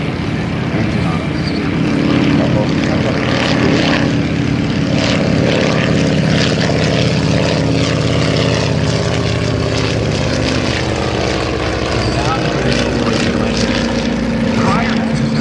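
A propeller trainer aircraft engine runs steadily at an airshow, a loud continuous drone with a strong low hum, while a narrator speaks over it throughout.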